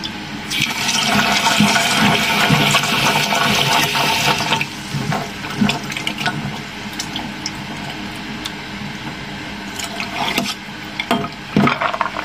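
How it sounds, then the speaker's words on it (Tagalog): Cashew nuts washed under running tap water, a loud continuous rush of water into a sink, heaviest at first, then thinner splashing with occasional knocks and clatters, close and with no talk. "At ito ang cashew na naman guys. Hugasan din natin. Hugas-hugas."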